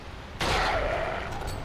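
Gunfire in the video game Resident Evil 4 starts abruptly as a loud, sustained burst of rapid shots that rings out and slowly fades, with no talk.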